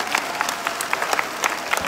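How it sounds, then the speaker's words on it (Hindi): At a Gaura Purnima festival gathering, a crowd claps loudly and steadily, a brief burst of dense applause close by with scattered sharper hand strikes. "के लिए भी जोरदार से तालियां हो जाए"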